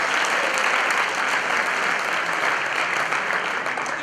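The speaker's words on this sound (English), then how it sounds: "Give them a round of applause." At a spring high school sports banquet, an audience gives a dense, even round of applause that stays loud and unbroken from start to finish, with no speech over it.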